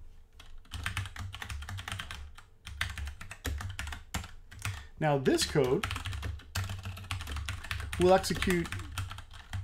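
Computer keyboard being typed on in rapid, uneven bursts of clicks throughout, with someone talking over it at moments about code that will run.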